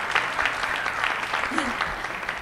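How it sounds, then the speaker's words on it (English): Warm applause from a student summit audience, a dense steady patter of many hands clapping close by, with faint voices mixed underneath. "So give a warm round of applause to them,"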